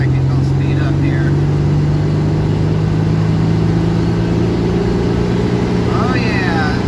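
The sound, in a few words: 120 horsepower engine running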